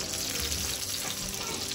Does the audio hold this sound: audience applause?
no